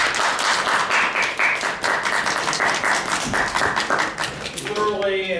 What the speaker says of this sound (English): These people all deserve a round of applause.